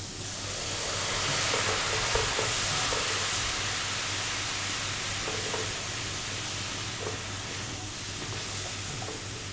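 Water poured into a pan of frying garlic sets off a loud, steady sizzle and steamy hiss that rolls on without a break, close up and with no talking.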